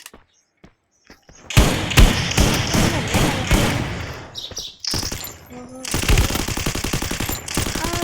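Loud bursts of automatic gunfire from a shooting video game, fast rattling volleys with thuds and short gaps, heard up close.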